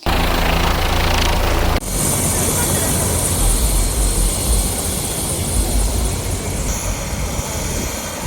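A helicopter flies tourists on a joyride; its loud, continuous rotor and engine roar dominates, shifting abruptly early on to a slightly different droning texture, then holding steady throughout.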